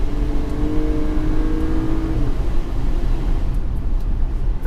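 Turbocharged 2-liter four-cylinder engine of a 2019 Acura RDX accelerating, a steady low engine drone and road roar from inside the cabin, with a tone that shifts midway.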